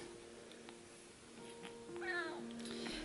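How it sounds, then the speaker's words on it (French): A small cat gives a few thin, faint meows in a quiet indoor room, partly blending into low background noise. "Petit chat."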